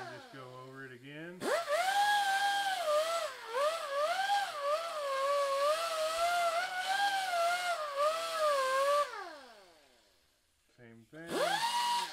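A maroon 3M Scotch-Brite conditioning disc on a power tool polishes a stainless steel outside corner weld, whining loudly with rising and falling pitch for several seconds, then spinning down and restarting; a voice speaks briefly.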